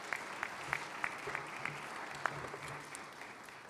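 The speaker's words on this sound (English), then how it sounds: "I would ask you to give them a round of applause." Applause from the audience at a round-table panel on regulations and contamination, a thin scatter of claps rising and settling at moderate distance, with no talk over it.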